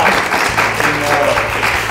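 A studio audience claps in a short, steady burst of applause, close and lively, lasting under two seconds.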